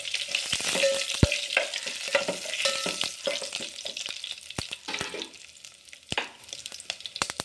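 Curry leaves crackle and sizzle in hot oil with a dried red chilli in a pan for Tamil paruppu urundai kuzhambu, with steady frying hiss punctuated by sharp pops and spatters throughout.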